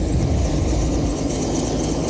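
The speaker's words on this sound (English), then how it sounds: "We have Keith, who's our helicopter pilot." A helicopter drones on steadily and loudly as a broad, constant rotor and engine roar, with no speech over it.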